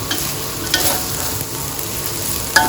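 Nam, fermented pork, stir-fried dry with glass noodles and onion in a pan, with a steady close sizzle, a spatula scraping and tossing, and a few sharp clicks.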